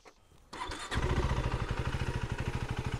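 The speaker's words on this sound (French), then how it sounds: "si jamais je démarre la moto" A 2025 KTM 390 Adventure R single-cylinder motorcycle is started with a short whir of the starter, then catches and settles into a loud, rapid, steady idle pulse close by.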